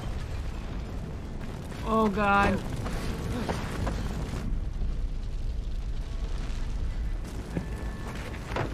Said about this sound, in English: about time we got an explosion.